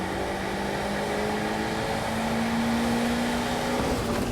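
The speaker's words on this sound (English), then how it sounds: "Turbo's on. Here we go. We're still revving" A turbocharged JDM convertible sports car runs in second gear with a steady, droning engine note that climbs slowly in pitch as it revs, heard from inside the cabin with road and wind noise around it.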